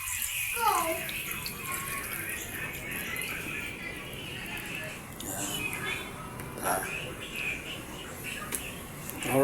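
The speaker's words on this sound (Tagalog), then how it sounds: "mag-a-add lang tayo ng kunting tubig" A little water is poured into a pan of sautéing chicken and vegetables, producing a soft steady hiss and sizzle at close range while a person talks over it.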